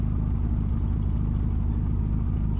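A D Series car engine fitted with nitrous idles in BeamNG, a loud, steady low rumble with an even, rapid pulse and nothing else over it.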